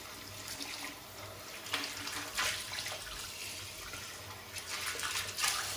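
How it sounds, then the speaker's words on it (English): Water runs steadily from a tap as soap is rinsed away during a shaving lather routine, a continuous close splashing hiss with small surges and no talk. "Rinse the soap out."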